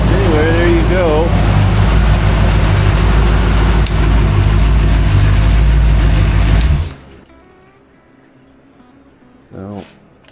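A rebuilt Ford 289 V8 with a compact transverse muffler runs loudly on a home-made stand, a steady deep rumble that cuts off abruptly, leaving quiet room noise and a brief voice.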